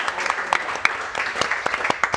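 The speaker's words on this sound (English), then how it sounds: "a big thank you and a round of applause for sitting through" A small group aboard the Disney Fantasy cruise ship gives a round of applause at a beer event, a loose scatter of individual claps with distinct sharp hits rather than a dense roar.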